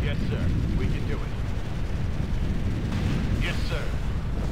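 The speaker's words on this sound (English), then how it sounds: "Now that's an explosion." Explosions and battle noise fill the Ground Control II real-time strategy game in a dense, continuous low rumble, with a few brief game voices breaking through over the din.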